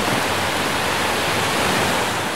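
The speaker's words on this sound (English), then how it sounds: "waves pound the rock at a weak point or fault" Sea waves hammer against coastal rock at a weak point, producing a loud, dense, continuous roar of surf and crashing water with no pauses and no voices.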